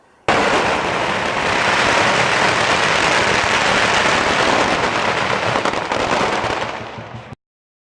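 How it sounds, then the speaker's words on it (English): Fireworks display at a temple, a dense, continuous crackle and rumble of bursts and pops sustained for several seconds and then abruptly stopping. "Thank God we get to see a good fireworks."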